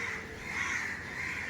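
Crows call harshly and without pause near an electrocuted, injured crow, their overlapping caws forming a steady, slightly distant clamor with no speech.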